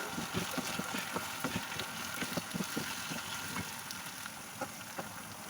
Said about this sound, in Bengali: দিয়ে নাড়ছি। এবার কপিগুলো দিয়ে দিলাম,